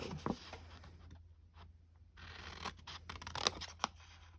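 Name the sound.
cutting card slivers with scissors for a Valentine gift box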